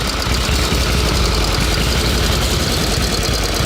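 A rare 1910s-era motorcycle engine runs steadily and loudly up close, a dense, even mechanical drone with a constant low rumble and no pauses or talk.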